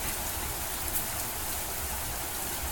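Heavy rain in the video game Mamiya, a dense, loud, steady hiss of downpour with no pauses and no voices.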